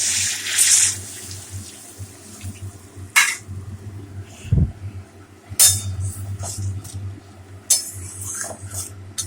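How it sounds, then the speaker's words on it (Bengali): Water is poured into a cooked-down spice mixture in a kitchen pan, splashing in short bursts mixed with clinks of utensils against cookware, close and fairly loud, with no voices. "এবার জলটা দিয়ে দেবো।"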